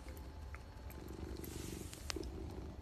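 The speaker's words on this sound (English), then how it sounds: "You got some pretty good purrs going today, bud." A house cat purring softly and close by, with a continuous low rhythmic rumble and a few faint clicks and rustles around it.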